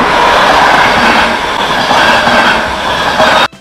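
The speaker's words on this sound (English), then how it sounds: "T for train." A train rumbles past, loud and continuous, with dense rattling rail noise from start to finish before cutting off abruptly.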